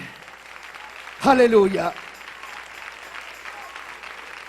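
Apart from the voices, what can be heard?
congregation applauding the King in church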